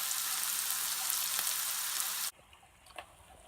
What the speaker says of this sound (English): put the onions in. And I'm gonna add a little butter and a little oil.